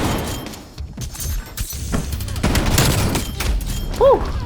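Spaz 12 shotgun fire in the Black Ops Cold War video game on the Nuketown map: several sharp, loud blasts in quick irregular succession, mixed with other game effects and a brief electronic tone near the end.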